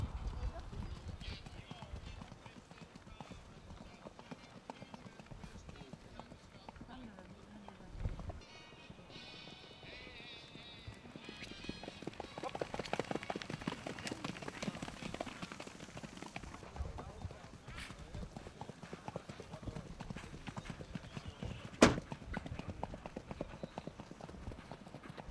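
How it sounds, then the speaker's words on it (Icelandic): Icelandic horses run past at a horse show, their rapid clip-clop hoofbeats steady throughout with an occasional whinny, while an announcer talks over the sound. "Þetta eru efstu hestarnir í 5 metra flokknum."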